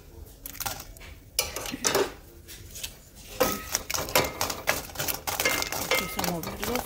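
Dried chiles sizzle and crackle in hot oil in a saucepan, with scattered clicks and scrapes of a utensil against the pan and a steady frying hiss under occasional talk.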